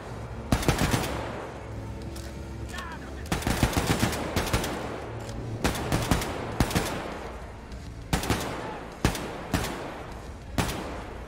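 Video game gunfire crackles in bursts, with sharp rapid shots and short automatic volleys separated by quieter gaps, loud and close.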